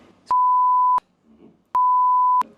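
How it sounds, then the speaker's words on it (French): Two loud, steady electronic tones, each lasting under a second, separated by a pause, with faint muffled talk underneath. "Il va y avoir plein de petits bips"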